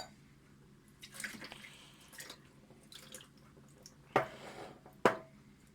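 Deionized water poured from a glass over the mirror of a SkyWatcher 300P 12-inch Flextube Dobsonian telescope, faint trickling and dripping with a few sharper splashes near the end, quiet and close.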